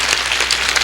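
A church congregation at a Sunday worship service claps together in a short, loud burst of dense applause, many hands at once with no voices standing out.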